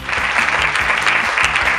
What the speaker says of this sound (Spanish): A mí también me gustaría pediros un aplauso para Jordi Ballester